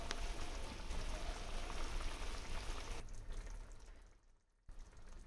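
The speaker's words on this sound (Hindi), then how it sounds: "पानी ऐड करने के बाद अच्छा सा बॉईल आने देना है" Chicken gravy boiling in water in a pot on a gas stove, a soft, steady bubbling and hissing that thins out and dips briefly near the end before picking up again.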